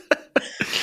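A person imitates a violent, retching cough with three rough, hacking bursts in quick succession, the last one trailing into a strained, breathy heave.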